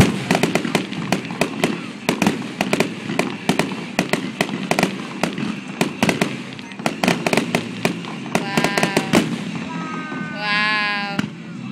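A July fireworks display in Henderson, Kentucky crackles with rapid, sharp bursts and pops in an irregular stream, loud and fairly close, while people talk and exclaim nearby and whistling rockets rise near the end.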